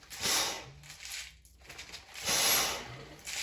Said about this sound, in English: You can hear them sliding up and down the inlet.